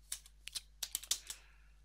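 A few quick keystrokes on a computer keyboard, sharp close-up clicks tapped in an uneven burst of about eight presses within two seconds over a faint hum.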